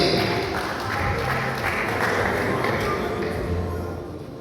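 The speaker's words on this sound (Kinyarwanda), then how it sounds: "Amashyi agiye." A crowd applauds at a graduation ceremony where church pastors receive degrees, a dense, steady clatter of many hands clapping that fades slightly toward the end.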